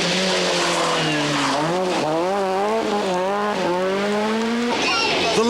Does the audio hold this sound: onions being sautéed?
no